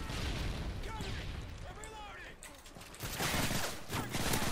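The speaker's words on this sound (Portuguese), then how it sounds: "Nossa, quanta granada." Rapid, overlapping grenade blasts and bursts of gunfire in Call of Duty MW3 multiplayer, loud and dense throughout, with a slight lull in the middle before the booms swell again, under excited talk.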